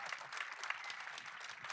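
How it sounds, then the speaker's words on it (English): An audience at a film Q&A applauds in a steady, dense patter of clapping that continues for the whole moment at moderate loudness, with no voices over it. "Let's give it another round of applause, please"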